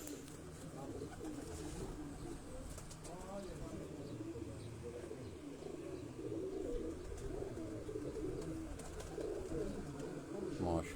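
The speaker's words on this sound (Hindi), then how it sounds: "ये डब वाली ब्रीड और नेरों वाले जो कबूतर थे उस्ताद इखलाक अहमद ख़ान साहब के" Soft, low pigeon cooing repeats in gentle rolling phrases, fairly close, over a steady background hum with occasional faint chirps.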